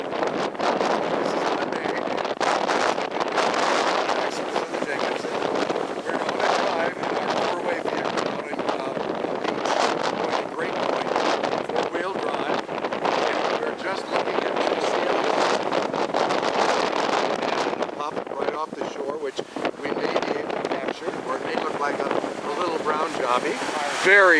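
Strong gusting wind buffets the microphone continuously, a loud rushing roar with water sloshing beneath and a voice speaking now and then.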